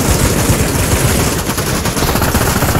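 Rapid automatic gunfire in the Pavlov VR zombie mode, a dense, loud, continuous burst of shots with no pauses and no voices over it.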